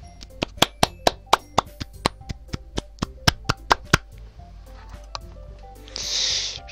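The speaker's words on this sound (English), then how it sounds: "Natsuki finishes and everyone applauds." A small group applauding in the video game Doki Doki Literature Club, sparse, sharp individual claps at an uneven pace that thin out, followed by a brief soft rustle.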